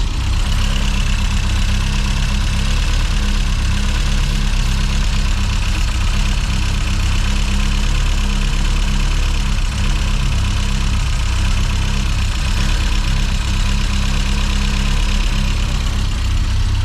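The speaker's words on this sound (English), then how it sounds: "Just going to spray this round the inlet manifold, and we're listening if the engine note changes" A Mini John Cooper S Sport engine idles roughly, giving a loud, close, steady low rumble with a faint knocking unevenness that continues without a break and without any talk.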